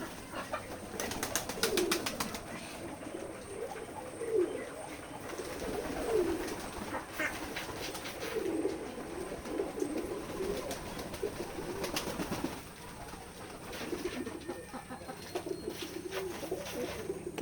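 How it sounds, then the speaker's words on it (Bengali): Pigeons at a village loft in Jessore cooing repeatedly while feeding, soft low coos recurring every couple of seconds over a steady background hiss, with occasional pecking clicks and no voices. "সব কবুতরগুলো এখন খাচ্ছে"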